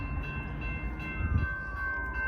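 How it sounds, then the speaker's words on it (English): A train rolls past on a railroad bridge, its low rumble steady and close, while a drawn-out horn tone holds above it and slowly drops in pitch as it passes. "we got another train coming"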